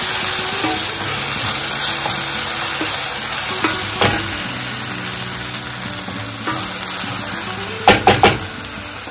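Onions and dried fish frying in a pan for a drumstick and dried fish curry, a steady loud sizzle with stirring scrapes and a few sharp utensil clacks on the pan near the end, no voices.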